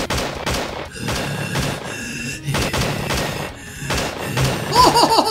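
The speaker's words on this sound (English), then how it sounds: "The bullets in this gun aren't as powerful, but you can shoot a ton of them all at once." Rapid bursts of gunfire from a gun in the Slendytubbies 3 video game, several close, loud volleys broken by short pauses.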